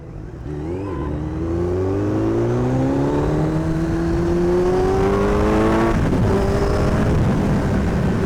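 A Kawasaki Z900 motorcycle with a loud aftermarket exhaust rides at night, its engine note rising steadily through the gears with a brief drop at a shift before climbing again, heard close and continuous.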